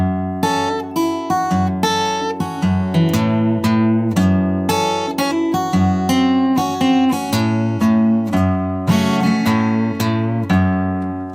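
Steel-string acoustic guitar plays a solo breakdown from a song, with busy fingerpicked open-string notes ringing loud and close with no talking.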